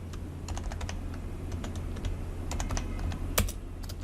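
Keys clack on a computer keyboard in quick irregular bursts as text is typed out, close and fairly quiet, with a faint steady hum beneath and no one speaking.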